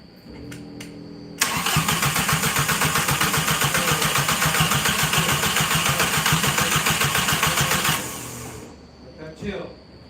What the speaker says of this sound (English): we're gonna crank it again for about 10 seconds, turn it off, crank it again